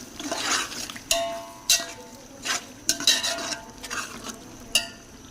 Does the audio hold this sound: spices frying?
yes